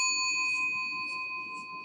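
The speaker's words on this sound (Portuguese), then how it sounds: "É um sininho tibetano que eu tenho." A small Tibetan bell rings once in a quiet room. Its clear, bright tone holds steady and fades very slowly, with no other sound around it.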